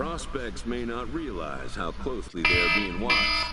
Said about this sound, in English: that was my alarm going off